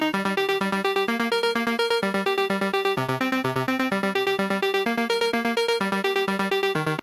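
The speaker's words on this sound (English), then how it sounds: "it's just this Italo 2020 ARP from Analog Lab with a little bit of decimort" The Italo 2020 arpeggiator preset from Analog Lab with light Decimort bit-crushing plays a fast, steady run of plucky synth notes, evenly pulsing throughout at a loud, consistent level with no voices.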